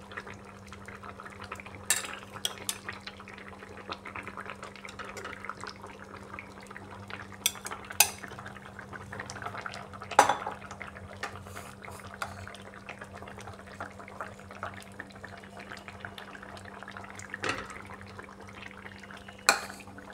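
Fried eggs simmering in a ridge gourd egg curry in a pan, a soft steady bubbling and faint sizzle with occasional utensil clinks and scrapes, quiet and continuous over a low background hum.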